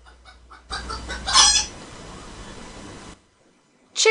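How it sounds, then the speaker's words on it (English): A chicken on a farm gives a short burst of clucking and squawking, close and fairly loud, followed by a quieter stretch of rustling and another brief call at the end; no one speaks. "Chicken."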